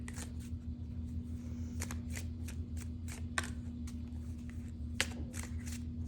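Tarot cards shuffled and drawn in a reading, giving repeated crisp riffling flicks and snaps at close range over a steady low electrical hum, with no talking.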